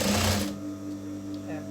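Sewing machine stitching fabric for a house dress, a brief fast burst of close, loud mechanical whirring that stops after half a second, leaving a steady low motor hum with faint handling sounds.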